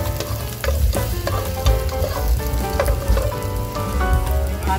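Garlic and onion fry in hot oil for a tinola fish soup, giving a dense, loud, continuous sizzle close by, with faint clinks of a utensil against the pan.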